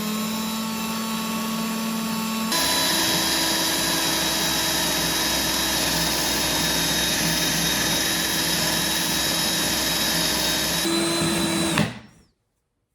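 A portable power drill clamped to a bench of 2x4s and plywood spins a wire wheel, a steady high whine that steps up in pitch and loudness early on, runs evenly, then cuts off abruptly at the end.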